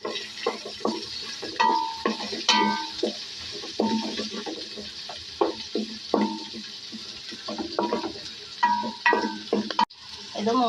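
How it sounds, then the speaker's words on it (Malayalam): Spinach and onion fry in oil in a pan for a Kerala cheera thoran, with steady sizzling broken by frequent stirring and scraping clatter, close and fairly loud, without talk. "അതായത് എണ്ണയിലാണ് ഇത് വേവുന്നത്."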